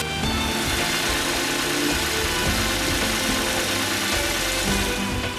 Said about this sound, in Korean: 엔진 소리 자체가 정말 고르고 부드럽다라고 느껴지고요.